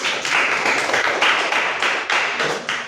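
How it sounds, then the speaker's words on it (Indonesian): A classroom of students clapping for a presenting group, close and fairly loud, with uneven rhythmic bursts of hand claps forming short waves of applause. "Tepuk tangan untuk kelompok 1."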